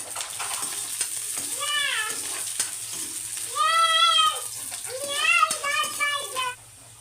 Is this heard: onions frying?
yes